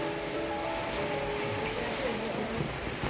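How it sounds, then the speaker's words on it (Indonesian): Steady rain falls heavily at night, a dense continuous patter on surfaces that fills the whole stretch, with no pauses and no clear voices over it. "keadaan hujan"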